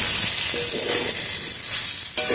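Pasta in tomato sauce with soybeans sizzles loudly in a hot pan while being stirred and mixed, a dense, continuous frying hiss close up, with brief scraping touches and no voices.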